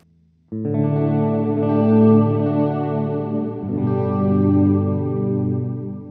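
An Ibanez RG3120F electric guitar on the third pickup position: a clean chord rings out and sustains, then a second chord follows with a fuller, shimmering tone, played alone and close.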